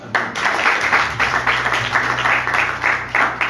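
A church congregation at a glory conference claps and cheers steadily, a dense wash of applause with rhythmic bursts running the whole time, close and moderately loud.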